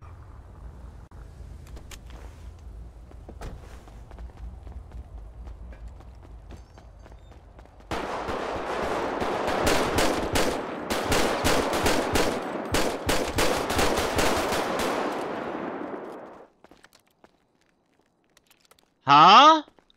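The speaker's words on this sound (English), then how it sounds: "We're gonna shoot her." Rapid bursts of gunfire in a roleplay video game ring out close and loud, a long run of sharp shots that fades away before a brief separate sound near the end.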